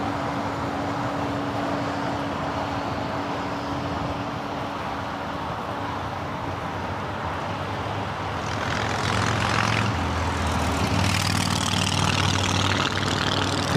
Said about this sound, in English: Air Mexico flight coming in from Mexico City, flight 642. It's a 10-year-old 737-800.